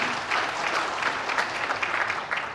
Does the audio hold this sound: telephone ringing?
no